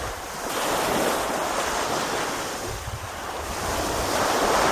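Sea waves washing continuously at La Manok Island in Masbate City, with a broad steady surf roar swelling and easing slightly, mixed with wind buffeting the microphone and no voices.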